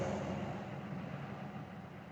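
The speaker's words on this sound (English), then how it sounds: "this vehicle has been idling for at least 16, 17 minutes at this point" A police vehicle's engine idles outdoors, a steady low rumble with a broadband hiss, moderately faint and continuous throughout.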